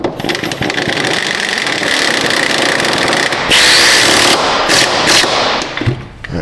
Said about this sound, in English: I'm gonna get the torque wrench up in here.